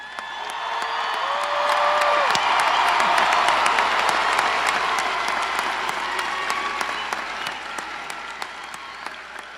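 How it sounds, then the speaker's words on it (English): A large audience at a Myers Park High School graduation gives the graduating class a thick, continuous round of applause that swells and slowly eases, with occasional whoops and cheers mixed into the clapping. "And let's give them one more round of applause."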